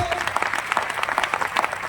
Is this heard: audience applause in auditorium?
yes